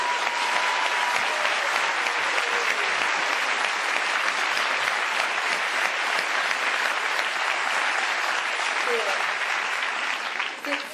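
Steady, dense audience applause in a French comedy stage show, a warm welcome for a new tenant, holding loud and unbroken for about eleven seconds.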